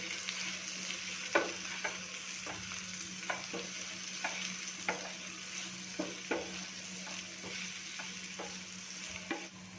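Vermicelli pulao fries with a steady sizzle in a pan as pulao masala is mixed in, with repeated spoon scrapes and taps against the pot at irregular intervals.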